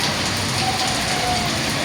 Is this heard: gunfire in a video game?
no